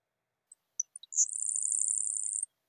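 A few faint high ticks, then a grasshopper sparrow's thin, high-pitched insect-like buzzy trill sustained for over a second, alone in near silence.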